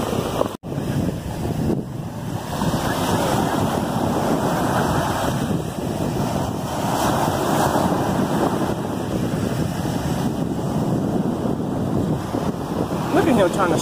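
Strong wind at a beach on the Gulf Shore of Alabama buffets the microphone in a steady, loud rumbling roar that barely lets up, with surf in the background.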